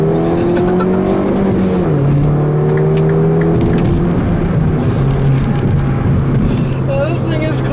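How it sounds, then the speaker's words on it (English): A turbocharged car accelerates hard in a second gear roll, its engine note climbing steadily with a brief dip as the pitch resettles, loud and close from inside the cabin throughout. "I'll leave you guys with a nice little acceleration here, a second gear roll"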